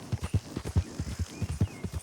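Horse hooves clip-clop at a steady walking rhythm in a Red Dead Redemption roleplay game, close and fairly loud, with no voices over the hoofbeats.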